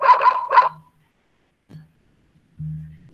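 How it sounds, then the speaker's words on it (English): A dog gives two quick, close barks in a row, followed by quiet pauses, a faint low whine and then a short low hum. "Listen to the sound as well. This is nothing but dog."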